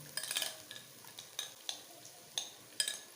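Okra (ladies' fingers) with masala in a pan: quiet scraping stirs and soft sizzling, a handful of short clinks and scrapes spaced irregularly, heard close and alone.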